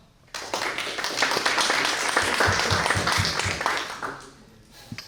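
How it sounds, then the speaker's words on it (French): An audience at an afternoon business presentation breaks into applause, a dense burst of many hands clapping that starts abruptly, holds steady for several seconds, then fades out. "Ça fait toujours plaisir, les applaudissements en début d'après-midi"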